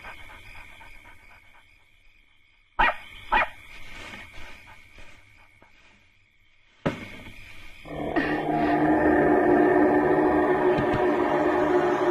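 A dog barks a couple of sharp times nearby and pants, then a loud, steady rushing noise rises and fills the rest.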